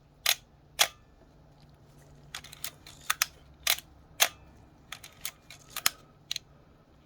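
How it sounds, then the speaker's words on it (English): A Minolta X-370 35mm film camera fires its shutter repeatedly at different speeds, giving a series of sharp close mechanical clicks, some single and some as paired open-close snaps spaced further apart, with no talking. "you can hear the shutter sound change as you go down and slow down."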